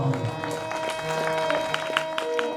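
Applause from an audience at a kirtan, with scattered clapping and crowd noise over a sustained harmonium-like drone, fairly close and moderately loud throughout.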